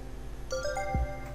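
A cell phone ringtone from the video game Persona 3 FES plays a short, bright melody of rising electronic notes, clear and alone over a low background hum.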